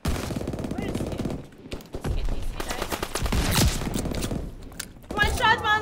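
Rapid bursts of automatic gunfire and single shots crackle through a shooter video game match, dense and fairly close, with short quiet gaps between volleys.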